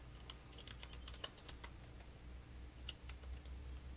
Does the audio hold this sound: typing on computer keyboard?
yes